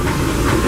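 Disneyland Railroad steam train rolling into New Orleans Square Station during the holidays, a steady close rumble of wheels on rails with a hiss of steam over it, lasting the whole short moment with no talk.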